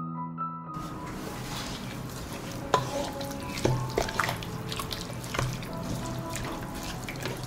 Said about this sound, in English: I will stir and continue cooking for another 10 minutes.